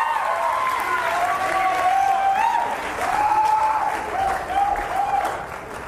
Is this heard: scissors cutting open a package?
no